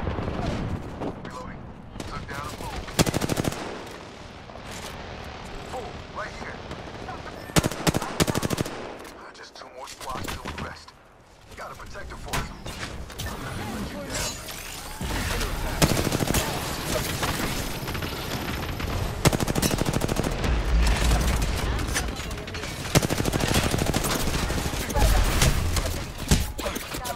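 Dense video-game gunfire rattles almost continuously, rapid automatic bursts and heavier booming shots layered loud and close, with a voice calling out over the battle at times.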